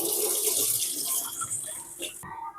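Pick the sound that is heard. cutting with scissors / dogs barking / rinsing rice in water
rinsing rice in water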